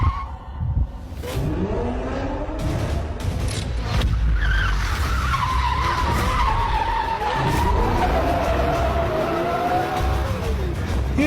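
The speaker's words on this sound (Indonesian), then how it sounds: "Drift memang harus tergelincir." A car drifts around a corner, tires squealing and skidding in long wavering screeches over a roaring engine, loud and close, rising in pitch as the slide continues.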